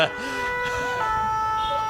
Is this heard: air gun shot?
no